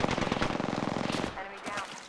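Rapid automatic gunfire in an online multiplayer shooter match: a fast, steady stream of close, loud shots for over a second, then scattered bursts and a clink as it tapers off.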